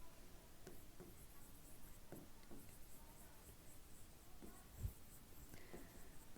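Faint, intermittent taps and scratchy strokes of writing on a board during a Class 10 science lesson, spaced irregularly across several seconds in a quiet room.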